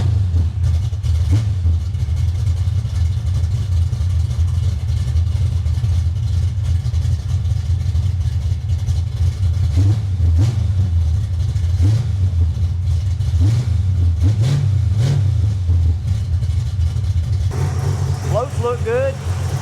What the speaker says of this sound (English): fire it up, and we'll go drive it real quick